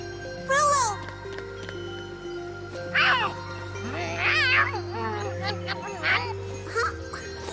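Rolo the cat meows repeatedly in Tales of Xillia 2, several short rising-falling cries spread over the clip above steady game background music, with no talk.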